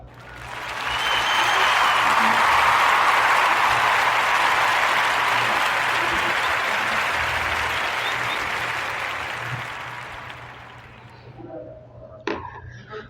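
A live audience breaks into loud, sustained applause for a narrative podcast. It holds steady for about ten seconds, then thins out and fades, with a few scattered claps at the end.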